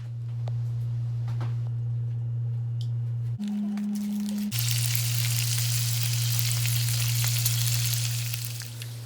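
Bacon sizzling and crackling in a pan, a steady loud broadband fry with scattered pops, overlaid by a constant electrical hum that briefly shifts pitch midway.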